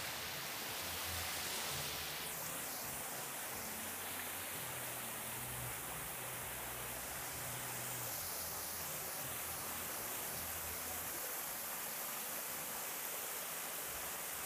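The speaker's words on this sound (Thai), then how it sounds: "เป็นน้ำตกน้ำซับไหลมาน้ำแผ่นหินไหลมาตามแผ่นหิน" Waterfall water pouring over rock slabs in a naturalistic cafe garden, a steady broadband rush that fills the whole clip with no talk.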